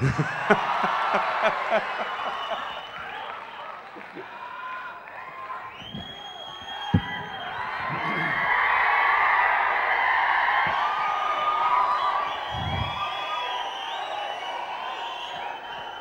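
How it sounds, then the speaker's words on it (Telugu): Fans at a film launch event cheer and shout as a distant crowd. A murmur at the start swells into a sustained roar in the middle, broken by a few sharp whoops before it fades. "మీరందరూ కేకలేస్తున్నారు, మాకు మాత్రం పొట్టలో తిప్పుతుంది ఇక్కడ."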